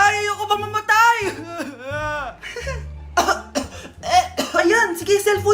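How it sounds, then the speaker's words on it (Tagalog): A short cough bursts out amid lively Filipino-language dialogue in a comedy skit, with several voices talking and exclaiming around it. "Anak, umubo ka ba?"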